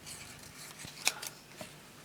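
Scissors cut paper flowers for a handmade card, a few faint, crisp snips and slicing rustles spaced unevenly, close and quiet.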